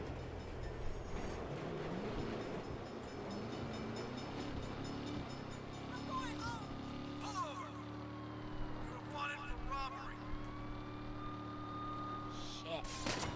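A train passes in the Saints Row video game with a heavy rolling rumble, and screeching metallic squeals and clanks rise over it toward the end, all under game noise and voices.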